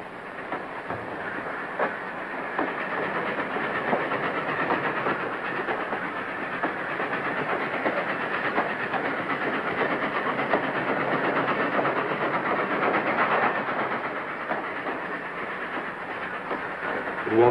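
A train running along railway tracks on a 1938-era line out of a junction town, a steady broad rumble with faint rhythmic clatter, continuous and fairly loud throughout.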